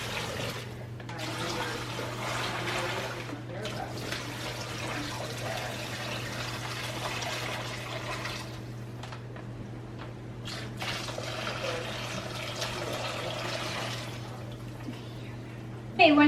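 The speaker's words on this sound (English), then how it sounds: "you're gonna add a gallon of heavily iced water into the bucket with the turkey, and now you're gonna do the brine that we made" Iced water and brine poured into a bucket holding a Thanksgiving turkey, a steady watery rush with splashing that runs almost continuously for about sixteen seconds over a constant low hum, with brief pauses.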